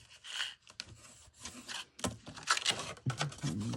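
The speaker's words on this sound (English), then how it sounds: "I'll go ahead and burnish them as I go." Paper folds on a handmade sewing-machine gift box being pressed and rubbed crisp, a series of close, dry rasping strokes in short bursts with brief pauses between them.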